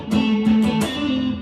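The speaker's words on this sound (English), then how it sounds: "if I played this open without using my left hand to mute any of the strings" An electric guitar is strummed several times with strings ringing open, producing a loud, harsh, dissonant wash of sustained notes.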